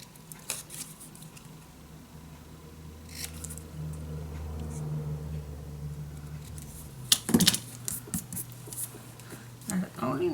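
Scissors cut through designed paper for a handmade magic box: a few crisp snips and rustles cluster near the end, after quieter handling, with a person talking throughout.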